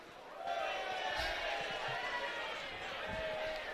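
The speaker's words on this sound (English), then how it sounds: "Crowd enjoyed that one." Spectators at a WDF Lakeside World Championships darts match cheer and roar loudly in an indoor arena, a sustained crowd noise lasting throughout with a commentator talking over it.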